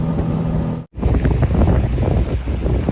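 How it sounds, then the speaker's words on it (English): Strong wind buffets the microphone while fishing solo from a boat on a bay: loud continuous roaring gusts with water wash, broken by one brief dropout near the start. "It's very windy, but it's a beautiful day."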